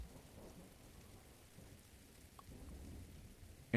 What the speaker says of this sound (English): So there's our rain.